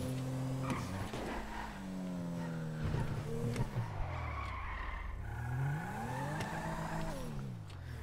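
Tires squeal through a long skid as a stolen car drifts at speed in a video game, engine whine sweeping up and down under the sustained screech.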